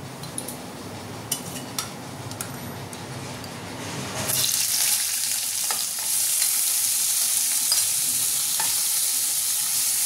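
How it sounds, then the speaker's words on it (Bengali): Prawns frying in a little mustard oil in a wok, a quieter crackle that jumps into a loud, dense hiss midway, then holds steady and close with faint stirring clicks. "চিংড়ি মাছটা হালকা করে ভেজে নেব।"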